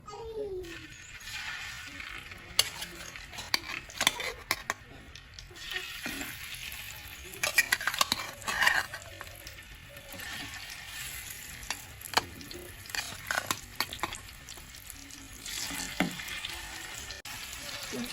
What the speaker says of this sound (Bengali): তেলটা ভালোভাবে গরম হয়েছে, এখন আমি মাংসের টুকরাগুলো